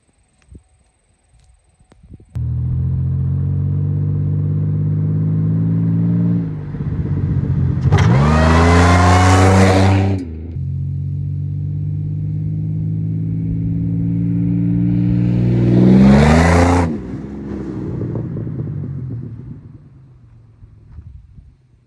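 Supercharged car revs up hard through its gears in a short pull, the engine climbing in pitch and dropping at each of two shifts before it eases off, loud and near with some wind noise.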